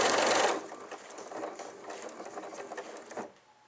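Elna Lotus sewing machine running through the end of a stitch pattern: a loud burst of fast mechanical stitching that drops into quieter irregular clicking and needle patter, then stops as the machine ties off and halts.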